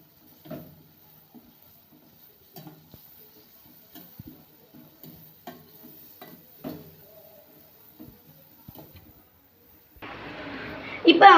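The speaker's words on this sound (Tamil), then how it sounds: "இப்போ இஞ்சி பூண்டு பேஸ்ட் போட்டுக்கலாம். இதையும் நல்லா வதக்கி விட்டுக்கலாம்." Ginger garlic paste goes into a pan of softened onions during a Tamil home-style mushroom gravy; soft clinks and stirring taps come first, then a loud, close sizzle suddenly flares up at the end.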